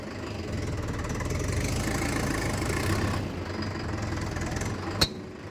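A Mahindra Yuva Tech+ 585 tractor engine runs at a steady, close idle-like drone while its JCB loader arm rises slowly, with one sharp click near the end and no talking.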